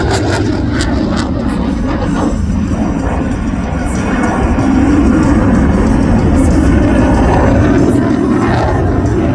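CF-18 Hornet fighter jet making a low simulated strafing pass over a shoreline at an air show, a loud continuous roaring rumble that swells slightly midway and holds steady throughout.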